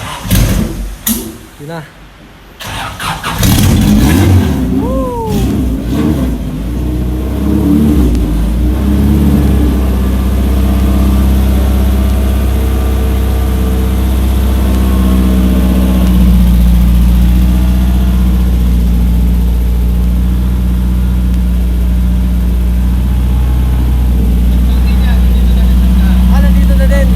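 A Honda car engine starts and revs hard, a loud sustained drone with a rising pitch sweep early on, then settling into a steady, powerful roar, with people talking over it.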